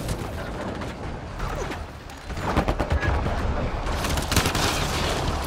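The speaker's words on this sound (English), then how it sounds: "Just keep firing, we can do this!" Heavy gunfire from a Mass Effect Andromeda battle on Habitat 7, dense overlapping bursts and booms that swell louder partway through and keep going steadily to the end.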